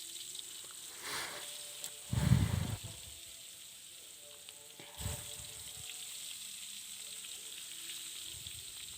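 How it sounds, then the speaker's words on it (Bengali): Hilsa fish shallow-frying in oil in a pan before being cooked with eggplant, giving a soft continuous sizzle with a few louder spitting bursts and flips, close by and quiet overall, with no talk. "ইলিশ মাছটা এপিট ওপিট করে হালকা করে ভেজে নেব"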